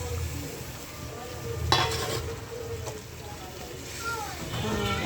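Fish dropped into sizzling, stirred spiced masala in a home kitchen pan, a steady frying hiss with a louder burst as it goes in, stirring and clinks, children faintly audible in the background.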